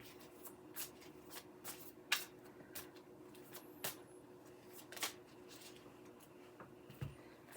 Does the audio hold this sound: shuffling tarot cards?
yes